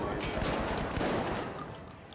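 A turret in the video game The Finals firing a loud, continuous rattling stream of shots, dense and close, with a voice mixed in.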